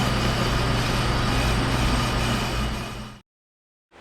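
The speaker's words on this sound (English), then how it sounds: "I'm cutting both sides even though the inboard side has been all the way smoothed" A brake lathe cuts both faces of a brake rotor, giving a loud, dense, steady whirring grind up close that stops abruptly near the end.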